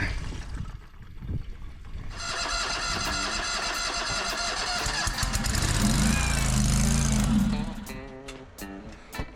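An engine on a machine bought at auction cranks over repeatedly without firing, a loud close churning that surges and strains for several seconds before cutting out.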